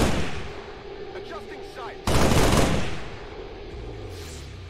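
A sudden loud burst of mech gunfire in XCOM 2 hits hard and decays over about a second, with fainter synthetic game tones and effects before and after.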